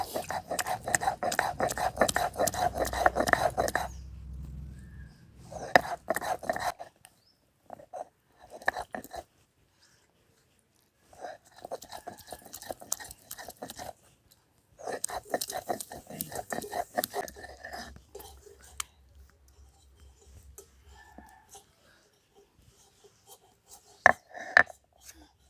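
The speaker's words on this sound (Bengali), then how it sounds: "টমেটো আর শুকনো লঙ্কাটা জলে সেদ্ধ করে দিয়েছিলাম, সেটাকে আমি বেটে নিচ্ছি" Boiled tomato and dried red chilli being ground by hand into a paste in a village kitchen, heard as bursts of rhythmic scraping and rubbing strokes separated by short pauses.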